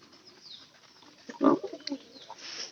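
Pigeons give a short burst of soft, low cooing in the middle of a quiet farmyard moment, fairly close and modest in volume.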